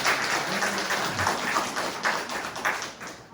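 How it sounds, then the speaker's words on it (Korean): Congregation applauding during a Sunday morning church service, a dense steady wash of many hands clapping at once, fairly loud and continuous, tapering slightly toward the end. "저렇게 수고하고 오셨는데 박수 좀 드릴게요"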